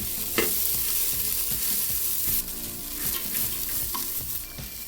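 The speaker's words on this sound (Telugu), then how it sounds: "అలసందల్ని ఒకసారి మిక్స్ చేసుకోవాలి. ఆయిల్లో బాగా ఫ్రై చేసుకోవాలి." Black-eyed peas sizzle and fry in hot oil while being stirred in a pan, a steady loud crackle with scraping stirs, close and continuous.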